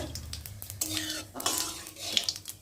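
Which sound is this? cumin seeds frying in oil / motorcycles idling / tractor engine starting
cumin seeds frying in oil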